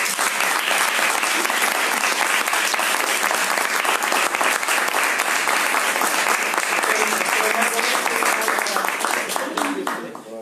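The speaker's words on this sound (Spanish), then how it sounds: "Un gran aplauso a Héctor." An audience at a literature and liberty talk in Chile gives sustained, even applause for about ten seconds, the clapping dense and close before it trails off at the end.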